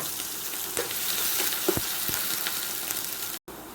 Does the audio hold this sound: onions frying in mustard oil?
yes